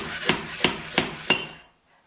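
Four sharp metallic hammer taps on a car body dent repair tool land at an even pace, each one brighter and ringing briefly, followed by silence.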